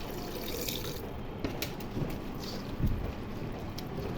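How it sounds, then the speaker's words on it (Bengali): Water pours and splashes quietly into a curry pan of small fish with potato, tomato and pointed gourd, with a soft continuous trickle and a few light clinks. "এখন পানি দিয়ে দিব।"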